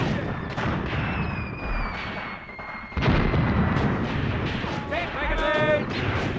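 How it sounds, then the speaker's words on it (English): Artillery fire in the Tank Warfare: Tunisia 1943 video game, heard as repeated booming blasts and rumbling battle noise in a dense mix, with voices talking over it. "actually our artillery is firing at their artillery right there"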